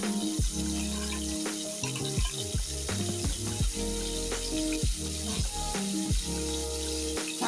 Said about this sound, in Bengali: আমি এটা এখন ভালো করে ভেজে নিই।